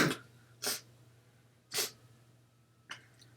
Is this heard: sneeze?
yes